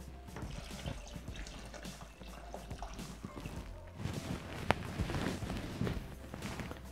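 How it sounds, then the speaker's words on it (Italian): Water is poured into a Thermomix bowl holding pasta and potatoes, heard as a soft, uneven splashing trickle with a few light knocks, swelling a little in the latter half amid quiet kitchen noise. "Aggiungiamo l'acqua"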